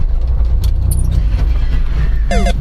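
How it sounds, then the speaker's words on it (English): A car sliding around a corner under an e-brake slide: steady loud engine and tire-road rumble throughout, with a brief metallic rattle near the end. "E-brake slide."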